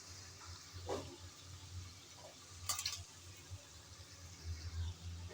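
Potatoes stirred into a frying spice paste for crab curry, a faint low sizzle with occasional soft spatula scrapes and knocks, quiet and close, no talk.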